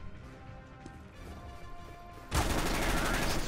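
Gunfire from the video game CS:GO breaks out suddenly after a stretch of low room noise, a loud burst of shots that carries on to the end.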